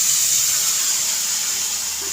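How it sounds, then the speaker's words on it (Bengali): Water poured into a hot pan of small mixed fish bursts into a continuous loud steaming hiss and sizzle that slowly fades, with no voice over it. "বাটিটা ধুয়ে সামান্য জল দেব"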